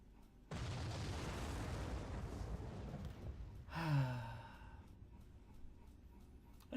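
A large explosion in the video game Zero Time Dilemma: a sustained broadband roar for about three seconds, then a loud sweeping burst with falling tones that fades into a quieter rumble, with no talk.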